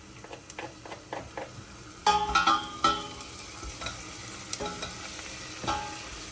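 Onions and garlic fry in a pan with a soft steady sizzle, broken by several stirring scrapes and clunks, one louder clatter partway through.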